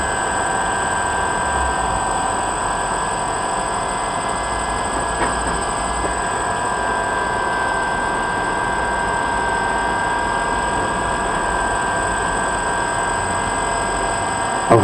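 A secondhand DJI Phantom drone sitting on the ground at home with its motors idling, giving a steady, even hum with a constant high whine that runs unbroken throughout.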